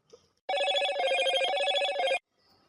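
A telephone rings in one steady, continuous burst of about two seconds while a call is placed, loud and close, with brief quiet before and after.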